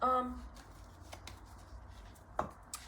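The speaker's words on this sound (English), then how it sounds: "Let me drop some cards" Playing cards shuffled and dropped in a few quick riffling bursts and soft slaps, close and fairly quiet, with faint background noise.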